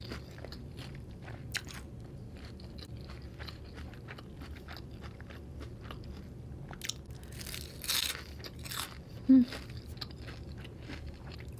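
Crunchy fried egg rolls are bitten and chewed up close, with repeated soft crunches and mouth sounds over a quiet background and a few sharper bites near the end.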